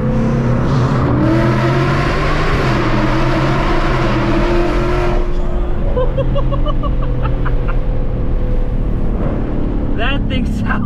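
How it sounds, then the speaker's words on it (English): A 2024 Mustang GT with long tube headers downshifts into second gear inside a tunnel, its loud engine booming and echoing under steady road noise before the note drops away and a voice speaks near the end. "That thing sounded nasty in that tunnel. Oh my god, these long tube headers really make the whole drive a lot more fun."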